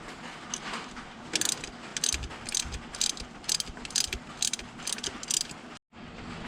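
A ratchet clicks in short, quick bursts, close and clear, while working a 10 mm nut off a small bracket on a 2011 Ford Fiesta during an AC replacement. Brief pauses separate the rapid runs of clicking.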